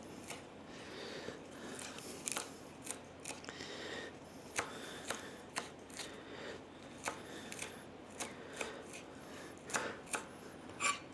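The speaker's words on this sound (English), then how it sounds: "I want to chop this very small, small as I can get it, without having to use the blender" A knife chops ingredients finely by hand on a board for spinach and parmesan stuffed mushrooms, a quiet, uneven series of close taps and cuts.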